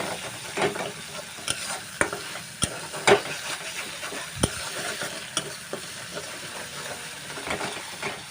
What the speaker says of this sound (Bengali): এটাকে আমি হালকা একটু ভেজে নেব